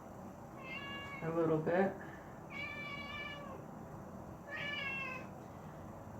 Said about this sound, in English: I have some very demanding little kittens here.